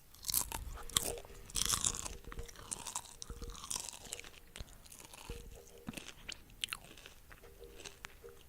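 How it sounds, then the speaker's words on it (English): Tortilla chips are crunched and chewed up close in an ASMR style, with loud crisp bites in bursts followed by quieter chewing and occasional faint background sounds. "Tortilla chips."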